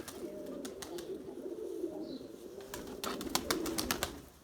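Erzurum white pigeons, purebred breeding birds, coo in a low steady murmur inside their coop, joined by brief higher chirps and scattered clicks, with the pace picking up toward the end.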